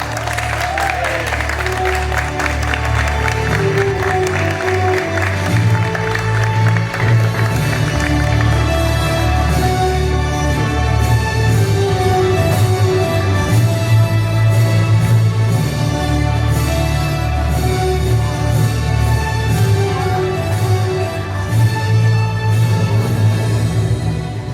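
Audience applause at an elementary school graduation ceremony, a steady, dense round of clapping lasting the whole stretch, mixed with music playing underneath.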